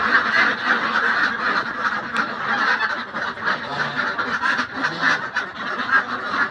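A crowded flock of farm ducks, including some ailing birds, keeps up a constant chorus of overlapping quacks nearby, loud and unbroken, with no one speaking.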